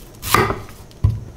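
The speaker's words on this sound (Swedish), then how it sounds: "Skär av toppen." A knife slices the top off a red onion on a cutting board, two crisp chops close up, the second a firm thud against the board, with no talking.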